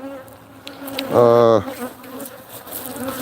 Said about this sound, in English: This one hive right now has really cranked up.